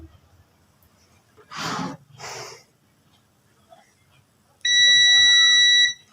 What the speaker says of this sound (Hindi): अब मैं चेक कर लेता हूँ कि मेरी बीप आ रही है।